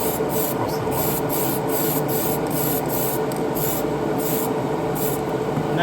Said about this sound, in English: that's how you spray with a rattle can.